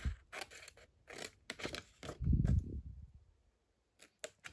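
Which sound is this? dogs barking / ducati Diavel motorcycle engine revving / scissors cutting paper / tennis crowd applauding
scissors cutting paper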